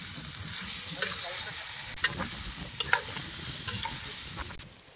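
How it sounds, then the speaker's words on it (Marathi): Country chicken curry frying in a pot is stirred, making a quiet steady sizzle with a few sharp clinks and scrapes of the spoon against the pot. No one talks. "आता याला अंगचे पाणी सुटले, हलवून घेतो."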